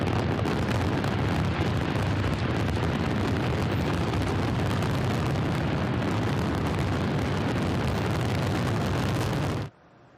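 Ford fireworks grand finale over the Detroit River, a dense, loud, unbroken barrage of booms and crackles roaring for nearly ten seconds before cutting off abruptly, with no voices.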